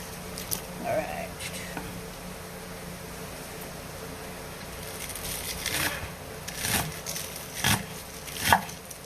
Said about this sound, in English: Alright, cut off the ugly ends.